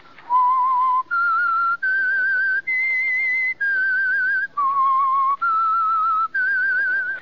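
A melodic whistled tune of about eight sustained notes, each held then briefly broken, clear and prominent with no talking, serving as the signal theme of a 1949 radio drama.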